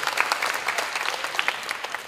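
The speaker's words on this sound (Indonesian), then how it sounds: "Tepuk tangan buat Bung Ijul." An audience at a speech before Indonesian content creators breaks into applause, a lively scatter of hands clapping with sharp individual claps standing out, continuous and fairly close.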